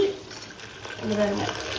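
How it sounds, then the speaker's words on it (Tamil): Water pours into a pot in a kitchen, a steady splashing trickle that rises toward the end, close by, with a voice talking over it. "இதில் தண்ணி ஊற்றி"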